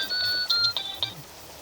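A phone rings with short, repeated electronic tones: a steady tone with several bright bursts in a quick series. It is fairly faint and heard alone, with no voices.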